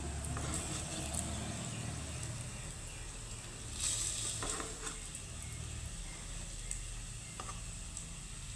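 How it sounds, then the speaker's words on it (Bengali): An oat and semolina mixture fries in a pan, giving a soft, steady sizzle with a few light stirring scrapes and clicks, quiet and without talk. "এইভাবে আমি উল্টে পাল্টে আমি সুন্দর করে হালকা ব্রাউন করে ভেজে নেবো"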